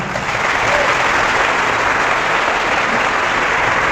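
Dense, continuous applause from a crowd at a live religious debate, steady and fairly loud throughout, with no voices over it.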